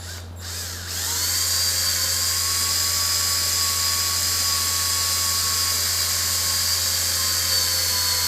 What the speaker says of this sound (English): Now I'm going to drill this hole.